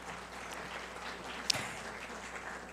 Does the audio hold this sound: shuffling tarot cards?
no